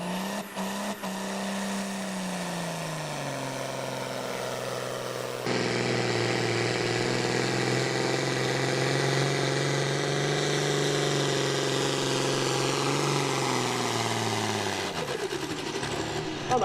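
A loud John Deere pulling tractor engine roars steadily and close at a tractor pull, its pitch climbing as it strains under load, then winds down near the end.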